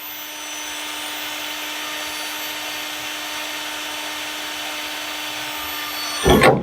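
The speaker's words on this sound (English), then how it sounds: "Drill a couple holes." A power drill bores holes for a fabricated lift kit on an NB Miata, a steady whining grind held for several seconds before ending in a brief louder clunk as the bit breaks through or stops.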